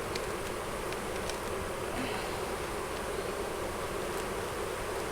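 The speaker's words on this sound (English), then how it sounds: "Swarmy bees." Swarming honey bees around brood-filled hive frames, a faint, dense, continuous buzzing hum with no pauses, steady and even.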